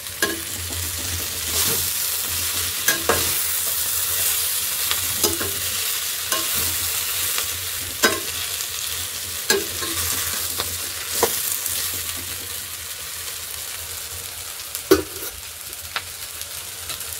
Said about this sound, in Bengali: আস্তে আস্তে এটা ভালো করে ভাজা ভাজা হয়ে যাক